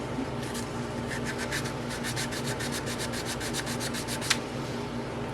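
Steady hand sanding of a small metal-free stud earring piece, a close, continuous rubbing scratch with quick repeated strokes and one sharp scrape near the end.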